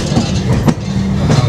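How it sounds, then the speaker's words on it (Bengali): A passenger train pulls into New Jalpaiguri station with a loud, close rumble. Wheels clack rhythmically over the rail joints and a brief metallic burst cuts through partway. "ট্রেন আমাদের এনজিপিতে ঢুকছে এখন"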